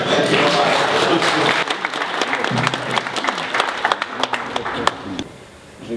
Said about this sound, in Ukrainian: при Брежневе продовжительні і бурні аплодисменти